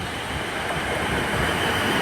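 A Class 450 electric multiple unit on a London Waterloo to Portsmouth Harbour service at Fareham station gives a steady, broadband rolling rumble. The sound is loud and continuous, with no voices.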